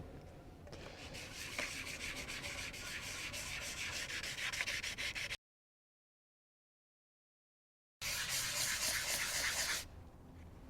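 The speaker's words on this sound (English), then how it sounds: "This will be a wet sanding process to avoid putting any deep gouges in the plastic." Wet sanding of an oxidized plastic OEM fog light lens with wet sandpaper: a steady, close, gritty rubbing that runs continuously, cuts off for a few seconds, then resumes before fading out.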